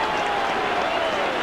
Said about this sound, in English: big Halifax crowd delighted by it all